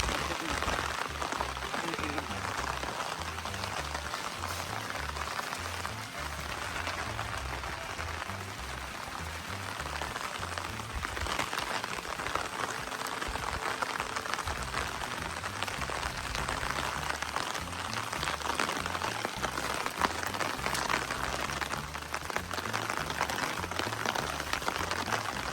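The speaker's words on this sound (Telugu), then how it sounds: "ఇంకా వర్షం పడుతుంది కదా" Steady rain falling in a village, a dense continuous hiss of drops on surfaces lasting throughout, close and even in loudness, with no voices over it.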